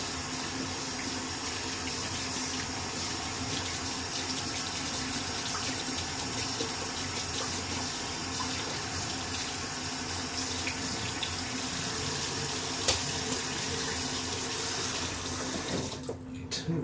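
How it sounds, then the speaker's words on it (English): Tap water runs steadily into a sink while a shaving brush is rinsed, a constant close splashing stream that cuts off near the end. "Alright, rinse off the brush."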